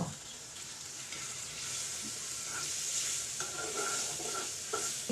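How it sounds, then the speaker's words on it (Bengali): Chopped tomatoes sautéing in spiced oil for a vegetarian okra curry, giving a steady sizzle with occasional spatula scrapes and light clinks against the pan, close by and without speech. "টমেটো দিয়েও এখানে আমি তিন চার মিনিটের মতো একটু কষিয়ে নেব"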